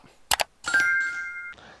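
A notification bell sound effect: two quick clicks, then a bright, clear ding that rings steadily for under a second before cutting off, alone and fairly close.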